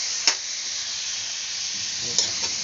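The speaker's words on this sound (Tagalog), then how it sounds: "Pagluto na po itong bawang sibuyas, isunod na po itong karne. Yan, gigisa ko lang po yan." Meat sautés with garlic and onion in a pan for a menudo dish: a steady, bright sizzle with a couple of brief stirring scrapes, close and continuous, with no talking.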